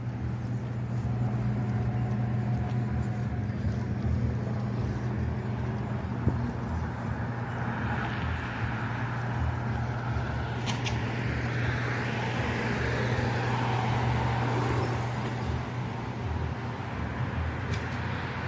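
A Kolegend 1/10 scale RC buggy runs at night with a steady electric motor drone and whine. The sound stays continuous throughout and holds at a fairly even level, with faint scuffs and shifts as the buggy slides around.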